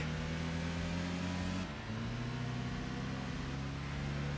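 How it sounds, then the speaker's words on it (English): A Fiat 500 microcar engine in the racing game Enthusia Professional Racing drones steadily, dips briefly as if shifting gear, then settles back to a constant buzzing note with no talk. "You can hear though, it does have a little bit more of an aggressive engine note now."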